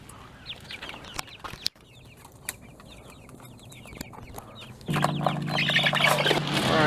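A flock of chickens clucking as they are loaded up and moved out to a pasture farm, with soft repeated clucks and a thump midway, then louder, denser clucking and rustling close by under a rising engine-like rumble.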